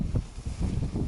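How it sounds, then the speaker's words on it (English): A tent bag flaps and buffets in strong wind outdoors on a hillside path, with a steady gusty roar and irregular fabric flutters over about a second. "there's the bag for the tent, flapping in the wind"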